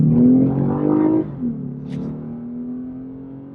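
A 2015 Lexus IS350 AWD F-Sport accelerating hard in Sport Plus mode, the engine revving up, briefly dropping at a gearshift, then pulling again with a steady rising drone heard from inside.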